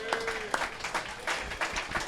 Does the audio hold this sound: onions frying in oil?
no